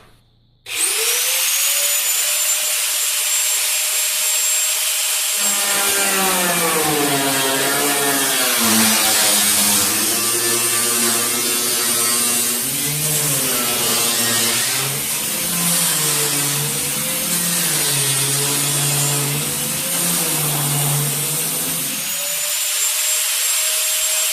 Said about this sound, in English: I used the baby grinder to cut the panel.